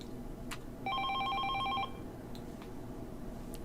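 Telephone in the video game 428 Shibuya Scramble ringing with a single electronic warbling burst of about a second, faint over a steady low background hum.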